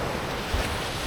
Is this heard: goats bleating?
no